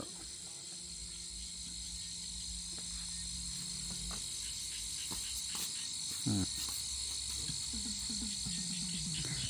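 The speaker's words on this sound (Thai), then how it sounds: "ฟังเสียงกบเสียงเขียดห้อง" Frogs croak beside rice fields in a rural Thai setting, their calls scattered and repeated among a dense, steady chorus of insects. The croaks are faint to moderate and come at irregular intervals.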